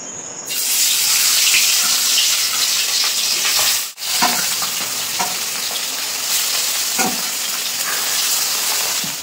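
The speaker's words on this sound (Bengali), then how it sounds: "তেল কিন্তু খুব ভালোভাবে গরম হয়ে গেছে, এখন লবণ হলুদ মেখে রাখা মাছগুলো কিন্তু দিয়ে দেবো" Fish coated in salt and turmeric fry in hot oil, producing a loud, continuous sizzle with crackling spits and one brief dip partway through.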